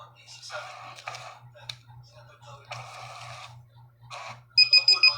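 Someone talks, then a rapid series of short, high electronic beeps sounds close by at the end from a coin changer dispensing coins after a 50 bill is inserted.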